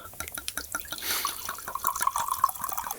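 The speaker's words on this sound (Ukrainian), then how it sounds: "в цей момент може, наче наливається вино" Wine pours into a glass in a short liquid run, with dripping, splashing pulses that rise into a steady gurgling fill and then trail off in close, clear detail.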